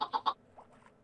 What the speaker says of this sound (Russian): Я хотела ему сюда куриц напускать, чтобы он там объелся вдоволь